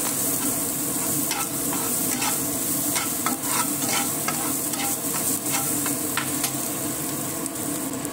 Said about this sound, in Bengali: এবার মশলাগুলো ভালো করে কষে নেব বেশ কিছুক্ষণ